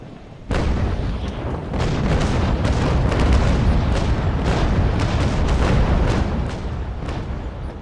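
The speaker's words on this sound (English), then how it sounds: "I'm turning my starboard side towards the enemy and hoping for a nice broadside against somebody" Ship cannons fire a broadside in the naval combat game Naval Action, a sudden heavy onset followed by a sustained rumble of repeated booms and cracks over several seconds, loud and dense, easing slightly at the end.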